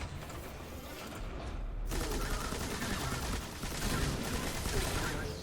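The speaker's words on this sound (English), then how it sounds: "I have enough ammo, so I can use machine gun here" Machine gun fire in the video game Destiny 2, a continuous dense rattle of rapid shots with mechanical clatter, loud and sustained throughout after a brief quieter start.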